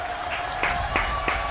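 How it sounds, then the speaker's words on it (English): Crowd applause at the ALGS esports playoff finals, a steady wash of clapping with a few louder swells, fairly close and filling the short moment without speech. "As the crowd pays their appreciation."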